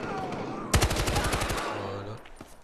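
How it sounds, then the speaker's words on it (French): Machine gun fire in the video game Battlefield Hardline: a rapid burst of about a dozen close, loud shots lasting under a second, followed by a low engine-like drone and scattered game effects. "Mais j'aime pas tellement cette mitraillette là, mais je vais faire avec."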